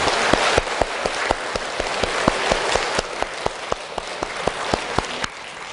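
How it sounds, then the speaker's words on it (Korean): A church congregation applauds together, producing dense, sustained clapping with a few sharper individual claps standing out, filling the room steadily before tapering slightly at the end. "하나님께 박수로 우리 영광송 대신 받습니다."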